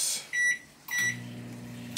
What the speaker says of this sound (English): Gonna pop it in the microwave.